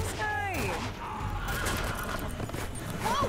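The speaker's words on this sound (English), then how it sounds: "Oh, there's a horse." A horse neighs sharply near the start in The Walking Dead: Season 3 game, followed by a shorter whinny at the end over noisy background commotion.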